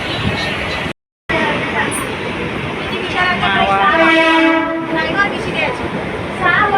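A Mumbai local train runs near Malad with a constant loud rattling roar, a brief break early on, and a long train horn sounding midway, while people's voices carry faintly.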